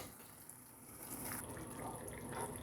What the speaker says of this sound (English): I'm going to add in some liquid to thin this out and then let it cook